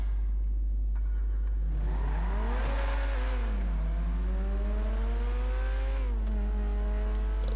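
German V8 Benefactor Feltzer sports car in a GTA video game revving steadily, its engine tone rising and falling in pitch through several sweeps, loud and alone without talk.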